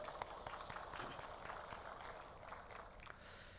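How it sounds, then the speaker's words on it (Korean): A congregation at a Korean church dawn worship service gives soft, somewhat distant applause of thanks, a faint steady patter of clapping lasting a few seconds. "감사의 박수를 드리겠습니다."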